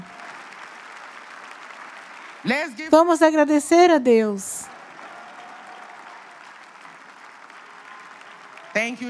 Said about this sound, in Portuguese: Vamos aplaudir ao nosso Deus de novo.